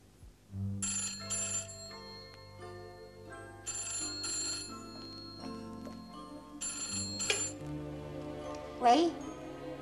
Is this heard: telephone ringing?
yes